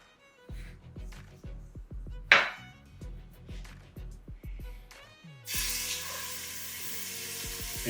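Wagyu sirloin steak, salted, hits a pan of hot oil over medium-high heat. A run of sharp taps gives way to a sudden loud, steady sizzle that fills the rest of the clip.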